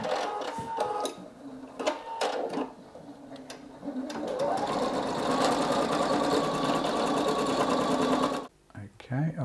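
A Singer EM9305 embroidery sewing machine stitches a large design in its 240 by 150 hoop, a rapid mechanical whirring and ticking that builds to a steady drone before stopping, with someone speaking over the start.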